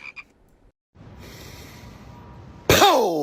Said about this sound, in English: I coughed something out while screaming power.